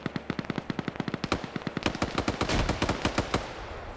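Video game firefight with rapid automatic bursts from rifles such as a FAMAS and AKM, sharp shots in quick rhythmic succession that thicken into overlapping return fire, loud and close, with no talk.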